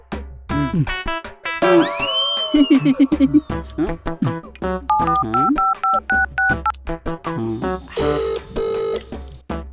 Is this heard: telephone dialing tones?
yes